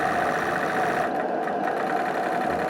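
An Ernst Haage motor driving a Dieter Hellman variable prop runs at a steady, fast, even buzz close by, with a brief dip in its higher hiss midway and no talking.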